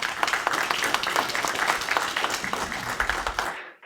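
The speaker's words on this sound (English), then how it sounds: "So please give a round of applause for all those people." Audience applause after a call to thank community volunteers, a dense, steady burst of clapping that carries on evenly before cutting off abruptly near the end.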